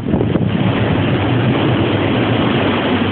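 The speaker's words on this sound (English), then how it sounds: "Yes, that's real wind sound." Strong wind roars steadily at the start of a Chicago blizzard, a dense, loud, unbroken rushing noise that holds the same level throughout, with no voices.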